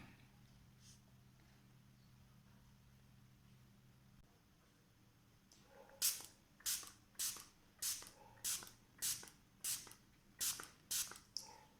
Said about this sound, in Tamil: இந்த மாதிரி வந்து நீங்கள் ஃபேஸில் வந்து ஸ்ப்ரே பண்ணி ஜஸ்ட் இப்படியே விட்டுருங்க.